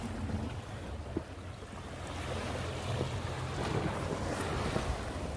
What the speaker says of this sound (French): on est où les vagues elles frappent, pas le plus en été, quand il y a du vent